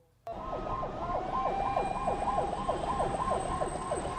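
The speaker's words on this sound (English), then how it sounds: "The siren of the hearse carrying 4 people who died of coronavirus to the Awudome Cemetery" A hearse siren wails, warbling rapidly and continuously at moderate distance on the way to Awudome Cemetery, steady and unbroken, with a faint high tone above it.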